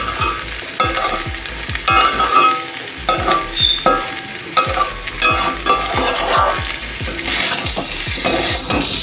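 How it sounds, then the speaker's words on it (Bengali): Already-fried taro pieces tumble into a hot pan, followed by steady, loud stirring with a utensil scraping and clacking against the metal over a continuous sizzle, with no voices. "আর এই যে ভেজে রাখা কচুগুলো দিয়ে দিচ্ছি।"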